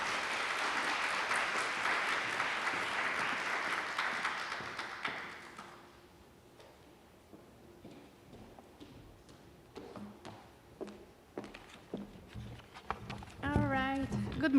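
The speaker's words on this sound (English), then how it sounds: "So please give them a round of applause." A seminar audience claps in a dense burst of applause that fades after about five seconds into scattered taps and room rustle, followed by a voice speaking near the end.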